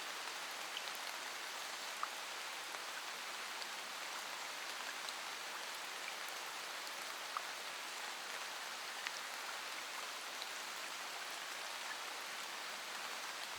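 Steady rain falls on a hot day, a dense, even hiss of drops without pause, soft and distant-sounding, with no voices or other sounds.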